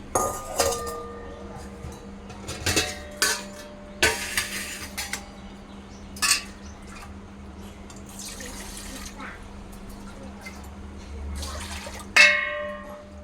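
Metal pots clank and clink on a stovetop among splashes of water, with several sharp knocks spread out and a dull hum underneath.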